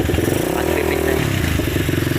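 A Honda XLR200 motorcycle engine runs close up at a steady fast idle, a loud mid-pitched chugging with mechanical clatter from the repaired bike.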